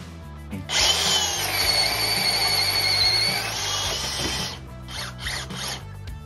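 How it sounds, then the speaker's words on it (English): A powerful DeWalt Flexvolt Advantage stud and joist drill with a 1¾-inch Irwin speed bore bit whines loudly as it bores through wood for several seconds, then spins down, followed by a few short motor bursts. "DeWalt's Flexvolt Advantage stud and joist drill with an 1¾-inch Irwin speed bore bit."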